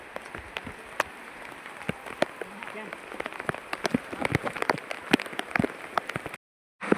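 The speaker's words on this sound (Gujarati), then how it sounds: "પાછો વરસાદ ચાલુ થઈ ગયો છે" Steady rain patters on the stone steps of Girnar mountain in Junagadh, a dense spread of sharp drops ticking nearby, then a sudden brief silence near the end.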